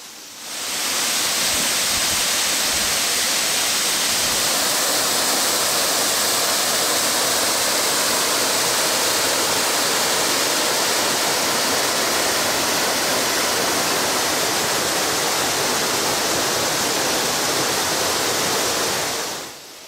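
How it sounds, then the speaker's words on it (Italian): The Fuas waterfall in Friuli roars in a steady, dense rush of water, loud and continuous from start to finish with no other sounds. "È possibile avvicinarsi parecchio alla cascata senza bagnarsi"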